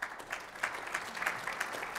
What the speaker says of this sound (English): Big round of applause for Ball.